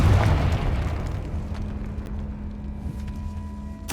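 Confringo blast spells firing in Hogwarts Legacy on PC, with a loud booming burst right at the start that decays into a rumbling tail, steady low hum afterward and another sharp hit at the very end.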